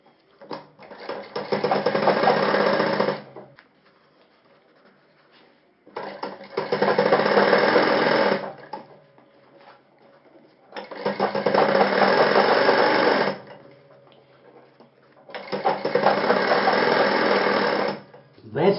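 A sewing machine stitches a shirt collar in four bursts of fast, steady whirring, each a few seconds long and separated by short pauses, with quieter handling sounds in the gaps.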